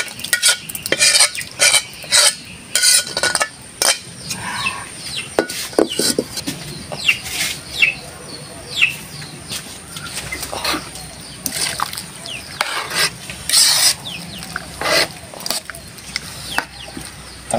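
Papaya and mashed mung beans go into a pot of dinuguan made with offal and are stirred, giving loud repeated scraping clanks and wet splashes, with a chicken clucking in the background.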